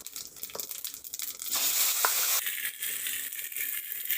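Chopped papaya and potato hitting hot oil flavoured with whole cumin seeds, a sudden loud sizzle that swells midway and keeps hissing with stirring crackles.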